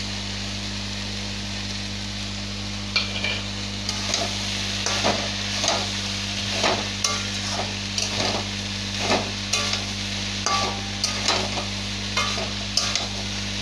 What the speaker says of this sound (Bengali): এই পর্যায়ে আমি ভেজে রাখা চিংড়ি মাছ আর আলুগুলো দিয়ে দেব।